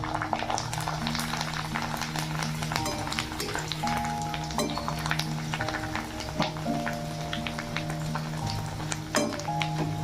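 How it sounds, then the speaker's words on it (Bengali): Papad frying in hot oil gives off continuous fine crackling and spitting pops over a steady low hum, close by with no talking. "দেখো পাঁপড় ভাজা হয়ে গেছে তেলের মধ্যে।"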